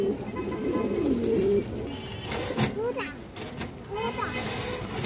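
Domestic fancy pigeons of an old-blood breed coo in low, rolling, repeated calls nearby, with someone talking over them throughout.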